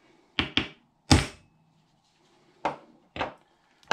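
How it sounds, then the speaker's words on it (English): An axe strikes down on a hatchet to split ash wood outdoors: a series of sharp, close wooden thunks, two quick knocks, a heavier blow, then two more spaced hits with quiet gaps between. "I'm using the axe to just to bang it down the hatchet"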